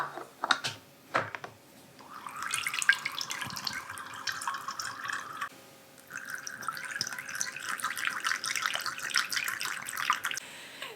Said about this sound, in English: I'm basically going to fill up each bottle just about 1 inch below the neck